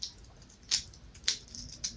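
A fidget toy being twisted and folded into shapes, making a few sharp, quiet plastic clicks spaced about half a second apart, close up against a soft, faint background.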